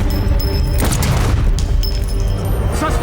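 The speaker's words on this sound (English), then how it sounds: "그 돌발 행동의 대가로 호치는 나디아를 향해 방아쇠를 당겨버립니다." A gunshot in an action thriller film: a loud, heavy boom within dense, chaotic, continuous noise, close and forceful.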